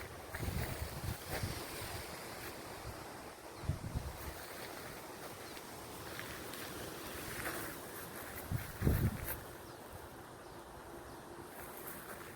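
Strong wind gusts through a tree outdoors, a broad steady roar with several louder surges and rustling bursts, close to the microphone with wind buffeting.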